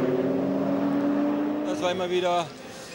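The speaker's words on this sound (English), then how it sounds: "There's that BMW being passed by the Bilstein Audi." A Bilstein-liveried Audi race car overtakes a BMW on the Nürburgring Nordschleife during the 24-hour race, engine note droning steadily then shifting pitch as it passes, with commentary over it.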